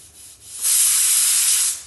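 Pressure cooker whistle during the cooking of fish biriyani: a loud, steady high hiss of escaping steam that rises suddenly and holds for about a second before cutting off.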